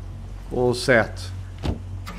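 A car driving in the video game State of Decay 2, a steady low engine drone running throughout with brief bursts of voices and a couple of short clunks over it.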